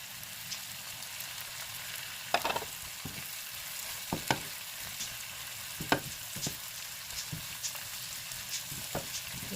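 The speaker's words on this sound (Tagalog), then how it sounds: "Ilagay na natin ang hipon." Shrimp sizzle steadily in a hot pan for buttered sweet and spicy shrimp, a constant crackling hiss broken by sharper pops and occasional stirring clatter, with no talking.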